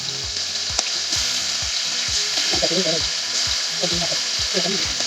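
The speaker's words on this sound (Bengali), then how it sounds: "বাইর করে এখন ভাজবো" Marinated grill chicken frying in a little oil in a wok on low heat, a close, continuous sizzle with repeated soft scraping and stirring knocks.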